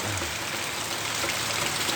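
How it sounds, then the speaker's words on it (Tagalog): Heavy rain pours steadily before dawn at about 4 a.m. in calm, windless conditions, a dense, continuous hiss of drops close by with no let-up. "madaling araw, alas 4, malalakas ang ulan"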